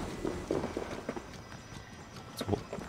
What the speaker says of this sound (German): Bisschen zu sehr mit dem Pferd da reingeritten.